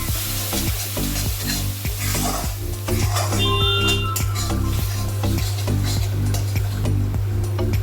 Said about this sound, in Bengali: চিনি দিলাম। ভালো করে ভেজে নিতে হবে।